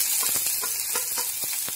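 Steady crackling sizzle of chopped shallots sautéing in hot oil, with a few soft stirring scrapes, continuous and close.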